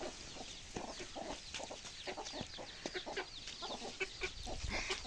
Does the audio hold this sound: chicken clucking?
yes